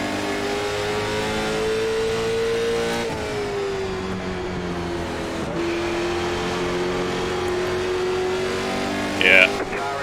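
A late model stock race car engine at New Smyrna revs loudly and steadily with a slowly shifting pitch, close by, as a voice talks over it.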